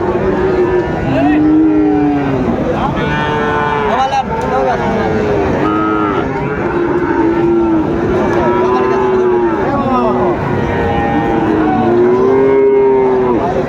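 Friesian and cross-breed bull calves at a busy cattle market let out loud, drawn-out moos one after another, with a constant crowd murmur and nearby chatter beneath them.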